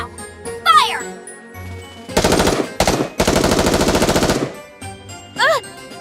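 Video game gunfire from NIKKE: Goddess of Victory, with loud bursts of rapid machine-gun fire in three separate rhythmic volleys, mixed with chiming game effects between them.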